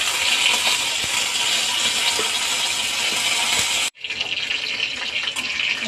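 Panch phoron spices and curry leaves fry in hot oil, giving a loud, continuous sizzling hiss that cuts out for an instant and then resumes slightly quieter.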